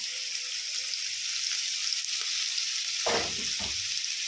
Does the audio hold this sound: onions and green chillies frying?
yes